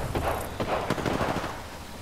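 Video game gunfire sounds in several quick, close, loud bursts that blend into a rattling volley before tailing off.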